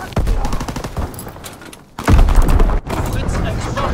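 Bombing-run explosions in Call of Duty: WWII, loud booming bursts and rattling gunfire layered densely across the span, with a sharp heavy blast near the middle, under game voice chatter.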